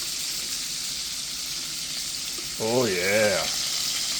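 Pork chop frying in bacon grease in a pan at a farm kitchen, a steady close sizzle throughout, briefly joined by a man's short spoken exclamation near the end.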